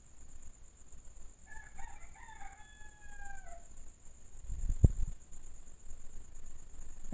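A single rooster crows once at a home yard farm with chickens, a clear drawn-out call at moderate distance over a faint steady insect hiss and quiet background.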